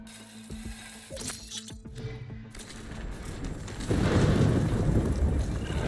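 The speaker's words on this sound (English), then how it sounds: "Storm is coming in quick." A thunderstorm rolls in over the Horizon Forbidden West game landscape: low rumbling and wind at first, then heavy rain swelling into a loud, steady wash of downpour, with no one speaking.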